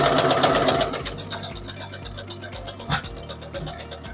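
A sewing machine stitches a small fabric coaster, running steadily and loud at first, then easing to a slower, quieter hum as the stitching slows near a corner, with a brief louder burst near the end.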